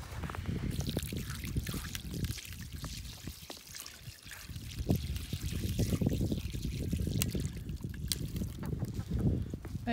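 Water poured and trickling out for farm birds on a snowy, icy Arkansas winter day, a steady splashing dribble with broadband outdoor noise throughout.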